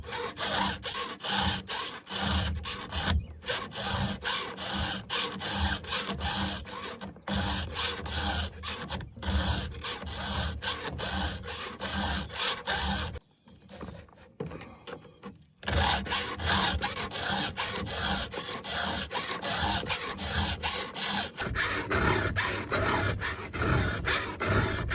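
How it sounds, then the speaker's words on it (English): A blade being sharpened by hand on a truck tailgate. Loud, continuous rhythmic rasping strokes come close to the microphone, with one brief pause partway through before the steady scraping resumes. "I just like to sharpen on the tailgate like this."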